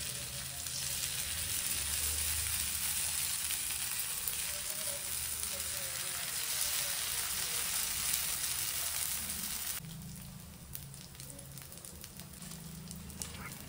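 Idli batter hits a hot pan over sautéed chilli powder and salt, giving a steady, dense, close sizzle that continues throughout and drops slightly in intensity partway through.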